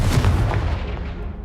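A Confringo blast spell explodes in the video game Hogwarts Legacy, a deep booming burst that rumbles loudly and fades over about a second.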